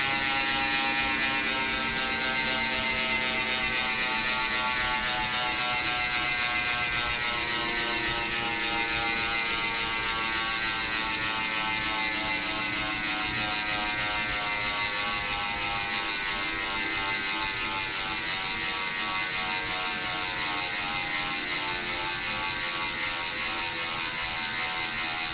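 Freewheel on a smart bike trainer clicking as the rider coasts during calibration, a rapid steady ratcheting buzz that runs close and unbroken for the whole stretch, with a slowly falling pitch as the flywheel spins down.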